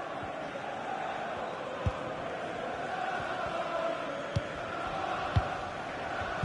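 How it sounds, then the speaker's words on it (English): A football stadium crowd in FIFA 23 roars in a steady, distant wash, with a few sharp thumps standing out and a commentator talking over it. "you have to say the crowd have been brilliant"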